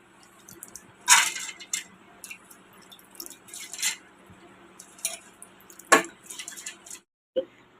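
Rice and lentils are washed in water in a kitchen, giving faint scattered splashes, drips and grain rustles with a few sharper clinks of a vessel, quiet and intermittent.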